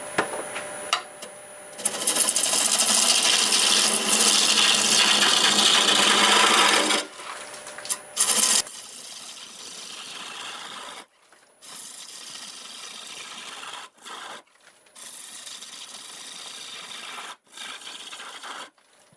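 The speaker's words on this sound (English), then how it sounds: "Switch into a smaller roughing gouge." A smaller roughing gouge cuts sequoia wood spinning on a lathe, making a loud continuous rasping scrape that stops and starts in several bursts, with a quieter hum between cuts.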